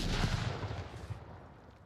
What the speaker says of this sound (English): James catches a lobbed nade